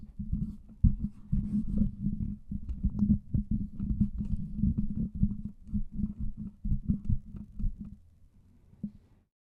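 Dense rustling, bumping handling noise from fingers rubbing and gripping a handheld dynamic microphone, continuous and low-pitched, then dropping to near quiet near the end.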